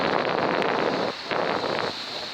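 Strong wind on the beach at Bognor Regis on a cloudy day, a dense continuous roar of gusts hitting the microphone, with surf washing underneath and brief dips in level.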